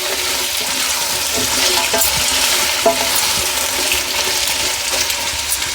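Beans and broad beans are stirred through vegetables in a pan for vegetable sambar, giving a steady close sizzle and hiss with soft scraping and small knocks throughout, and no talking.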